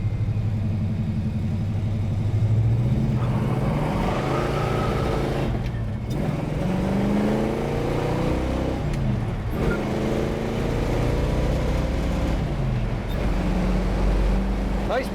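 A 1965 Pontiac GTO pulls away from a green light, its engine revving up through the gears in repeated rising sweeps with brief dips at each shift, loud and close from inside the car.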